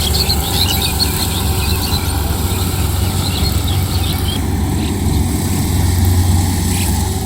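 A rice harvesting machine cuts paddy in a village field, its engine droning steadily and loudly throughout with a constant low rumble and faint higher whine, no talk.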